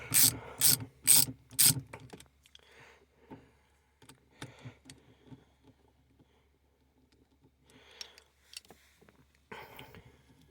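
A ratchet wrench works a 10 millimeter nut on the shifter of a Dodge Dart GT, giving a few quick loud clicking bursts up close, then scattered fainter clicks and mechanical clatter.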